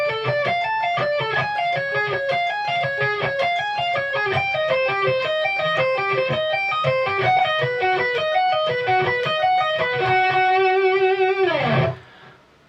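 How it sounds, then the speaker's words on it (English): Distorted electric guitar plays a fast sweep-picked arpeggio lick as a beginner exercise, rolling through repeated rising and falling note patterns for about eleven seconds before a final held chord that cuts off abruptly, loud and close with no talking. "the full pattern or guitar lick, all the exercises stringed along together, should sound like this"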